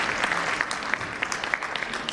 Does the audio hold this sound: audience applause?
yes